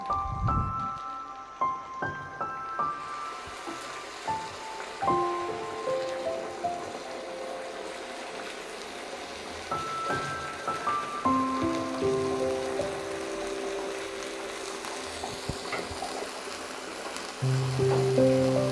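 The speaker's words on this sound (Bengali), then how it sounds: "এখন আমি পরিমাণ মতো পানি অ্যাড করে দেব" Boiled water poured into fried rice for chicken biryani, a steady splashing and gurgling stream that hisses and bubbles in the hot pot and keeps going in waves, with no one talking.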